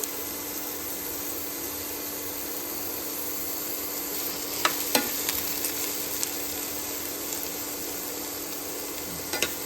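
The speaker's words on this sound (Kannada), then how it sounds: "ಸ್ವಲ್ಪ ಲೋ ಫ್ಲೇಮಲ್ಲಿ ಆನಿಯನ್ನು ಆ್ಯಂಡ್ ಚಿಲ್ಲಿನ ಫ್ರೈ ಮಾಡ್ಕೊತ ಹೋಗ್ಬೇಕು" Onion and chilli fry gently over a low flame in oil already tempered with mustard seeds, chana dal and urad dal for egg bhurji. The sizzle is a steady, even hiss with a few faint clicks and pops, and no talking.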